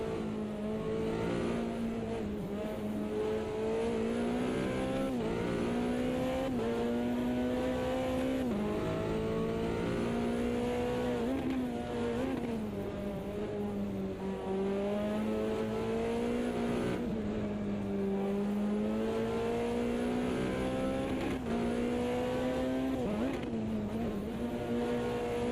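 Race car engines in the Automobilista 2 racing game, with 4WD physics, drone steadily throughout. The pitch climbs and drops repeatedly through revs and gear changes, with no talk over it.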